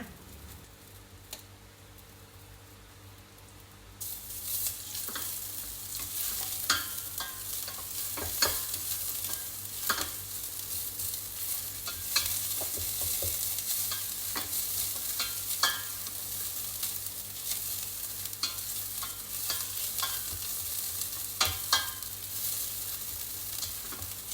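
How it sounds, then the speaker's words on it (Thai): Oil sizzles and crackles steadily in a pot as pounded garlic, coriander root and pepper paste fries after a quiet start, with scattered pops and stirring scrapes; no one speaks. "ตั้งหม้อให้ร้อนนะคะ แล้วก็ใส่น้ำมันลงไปค่ะ แล้วก็ใส่สามเกลือที่เราโขกไว้นะคะ"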